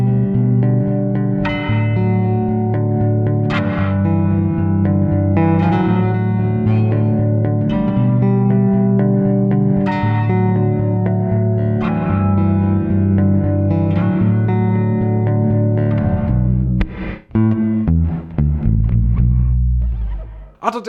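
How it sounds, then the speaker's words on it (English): An EBS DynaVerb pedal's reverse reverb sits on loud, sustained instrument chords, each note swelling in backward-sounding washes over about twenty seconds before a brief dip and a final swell, with no voices. "they also added some completely new ones, like this reverse reverb."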